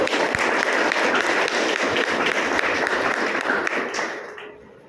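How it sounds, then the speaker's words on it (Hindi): Loud, dense clapping from a meeting audience fills the room steadily, then tapers off and fades out near the end. "जोरदार ताली बजा सकते हैं।"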